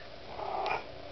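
A hungry kitten lets out a single drawn-out meow, close and moderately loud, rising and falling over about a second.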